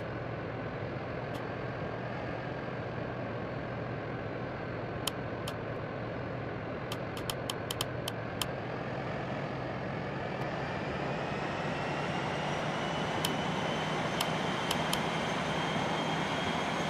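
A simulated airliner rolls down runway 27 for takeoff, with a steady engine roar whose whine slowly rises in pitch and brief clicks scattered over the sustained drone.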